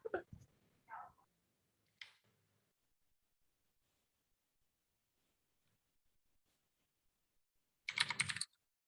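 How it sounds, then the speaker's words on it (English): Hurried typing on a computer keyboard, a few short faint bursts of key clatter separated by long quiet gaps, with a louder flurry of keystrokes near the end. "you so hurriedly typing what? Typing an urgent email."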